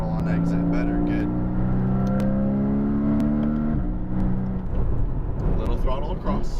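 A car engine rises in pitch as it accelerates on a track near Las Vegas, a steady drone that shifts partway through, heard under a voice talking throughout.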